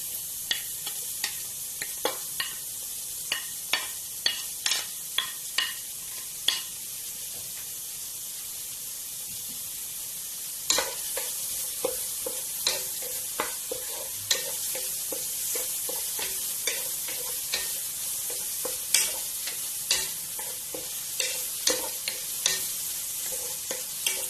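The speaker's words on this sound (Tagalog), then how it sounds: "Ngayon ay igigisa natin ang luya. Sibuyas." Ginger and onion sautéing in a pan for sinigang na lapu-lapu, a constant hissing sizzle punctuated by regular sharp taps and scrapes of a utensil stirring, near and steady, with no voices.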